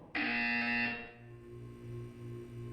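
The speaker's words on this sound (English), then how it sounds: "You will hear a buzzer." A loud, steady electronic buzzer in Portal 2 sounds for about a second, then cuts off, leaving a low pulsing hum and faint tones behind.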